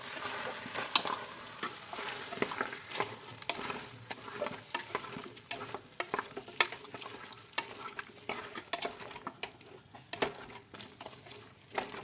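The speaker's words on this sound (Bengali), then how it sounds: "মশলাগুলোকে ভালো করে মিশিয়ে দেবো" Spices of chilli powder, turmeric and Kashmiri chilli powder are stirred into a chicken stew, with a spoon scraping steadily through the thick mixture over a soft sizzle, close and continuous, no voices.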